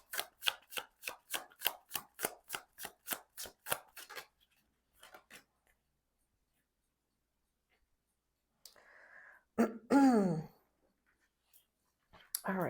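Tarot cards riffled in a quick, even run of about a dozen crisp snaps, then a pause and a few soft slides as cards are drawn, with brief speech near the end.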